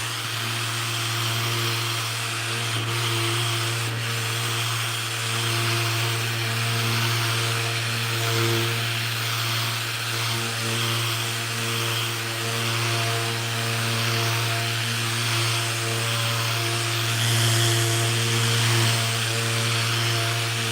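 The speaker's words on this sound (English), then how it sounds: "We're just sanding away that bark on there." A power sander drones steadily with a constant motor hum and gritty whir, sanding bark off wood, running continuously without pause and no talking.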